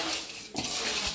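A spoon scraping and clinking against a pan while mixing chuda, a puffed or flattened rice snack, a short close metallic stir with one louder scrape midway.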